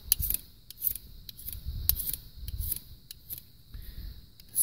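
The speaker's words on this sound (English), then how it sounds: "we'll see if we can't sharpen this broadhead really quickly" A single bevel broadhead stroked across the extra-coarse black side of a DMT diamond sharpening stone, making repeated short scraping rasps in a close, uneven rhythm.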